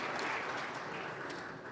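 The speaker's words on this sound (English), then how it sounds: "A round of applause to thank them all." Steady applause from a conference plenary audience, a dense patter of clapping that holds evenly for a couple of seconds.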